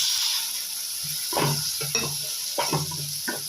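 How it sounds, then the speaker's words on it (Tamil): Bitter gourd and large chopped tomatoes sauté in hot oil, a steady close sizzle broken by several loud stirring scrapes of a spoon against the pan. "நல்லா வதங்கிட்டேங்க எண்ணெயிலே நல்லா வதங்கினாங்க"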